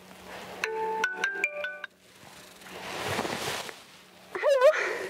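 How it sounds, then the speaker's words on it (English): Mobile phone ringtone, a short melodic electronic tune of stepped tones repeating near the start, followed by rustling and a brief voice-like sound. "I think that's your phone."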